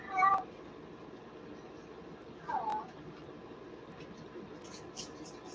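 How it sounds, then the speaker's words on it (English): A cat meows twice, a couple of seconds apart, each call short and fairly soft against a quiet hissy background. "My kitties are like chiming in as usual."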